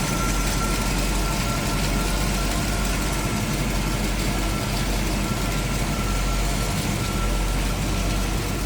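A chromed V8 in a 1936 Chevrolet Master two-door sedan street rod with block hugger headers and HEI ignition idles steadily, a loud, close, continuous low rumble with no talk.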